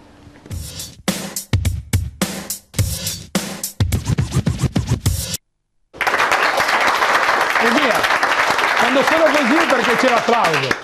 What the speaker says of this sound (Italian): C'è l'applauso.